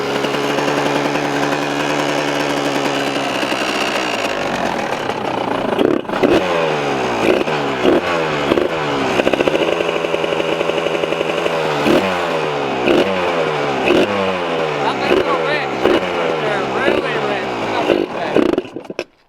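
Kawasaki KX125 two-stroke dirt bike engine running rich with the choke on, a loud, close, buzzing idle with repeated sharp blips and revs, steady and uneven throughout.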